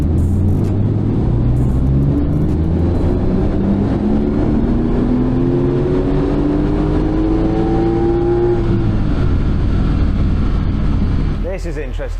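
A Porsche 911 Turbo S engine revs hard on a dyno toward its absolute limit, a loud sustained drone whose pitch climbs steadily for several seconds before cutting off abruptly near the end.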